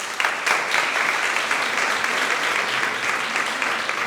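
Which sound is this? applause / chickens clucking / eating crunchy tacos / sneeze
applause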